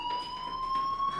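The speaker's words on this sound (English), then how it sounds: "do you hear that fire alarm?" A fire alarm rings steadily inside the Life Is Strange video game, a continuous electronic tone with a bright overtone sustained for the full moment without pause.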